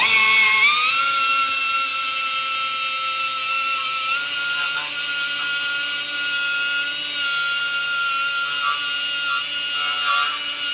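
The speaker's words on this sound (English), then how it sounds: "I'm just gonna go grab my little roll lock 90-degree grinder and we'll get this thing tidied up" A small right-angle 90-degree grinder cleans rust off the wheel hub of a 2014 Volkswagen Tiguan 2.0L AWD, spinning up to a high, steady whine that holds loud and close throughout.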